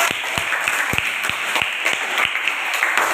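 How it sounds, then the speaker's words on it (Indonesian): A classroom of students claps together in quick, fairly even bursts, with steady, moderately loud applause holding for several seconds and no talking over it. "terima kasih tepuk tangan"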